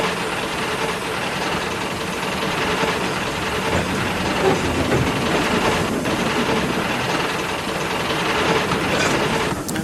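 A diesel train engine pulls away with a loud, continuous mechanical rumble and clattering, heard close and alone throughout.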